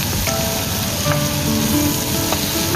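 Mushrooms frying gently in a pan, a steady soft sizzle with faint crackles running throughout at moderate level, no talk over it.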